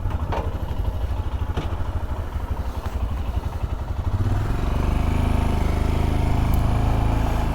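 Royal Enfield Scram 411 motorcycle engine idling with a steady mechanical clatter, then revving up louder as the bike pulls away, close and continuous with no talk.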